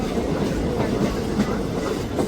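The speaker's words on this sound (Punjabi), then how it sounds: "ਬਠਿੰਡਾ ਤੋਂ ਸਾਡੀ ਟ੍ਰੇਨ ਚੱਲਦੀ ਹੈ" Passenger train 54552 running on rails from Bathinda Junction toward Ambala Cantt, a steady loud rumble with rhythmic clickety-clack of wheels over rail joints, continuous throughout with no talk.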